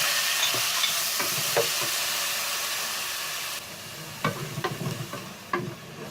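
Onions, green chilies and whole garam masala hiss and sizzle in hot oil, a dense steady frying noise that softens midway, then gets a run of close scraping stirs and clinks near the end.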